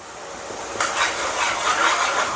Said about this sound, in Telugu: ఇలా పేస్ట్ అంతా వేసేసుకున్న తర్వాత ఇలా ఫ్రై చేసుకోవాలి.